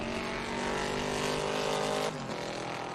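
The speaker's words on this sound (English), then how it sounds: "the Camaro certainly with a small block V8. Right behind those two is Eric Ritchie in the 27 Corvette Roadster." Vintage race cars, including a small-block V8 Camaro and a Corvette Roadster, roar past loudly on a racing circuit, a sustained engine howl that drops sharply in pitch as they go by.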